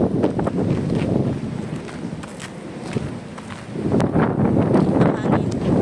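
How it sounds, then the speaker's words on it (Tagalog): Strong coastal wind near a rock formation buffets the microphone in a continuous loud roar that eases midway and then gusts back up. "Ang hangin."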